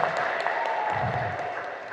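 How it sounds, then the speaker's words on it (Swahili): An audience at a Tanzanian loan-beneficiaries event in Mbulu town breaks into applause: a continuous, moderately loud wash of clapping that fades slightly toward the end, with voices mixed underneath. "Naomba tumpigie makofi mengi sana."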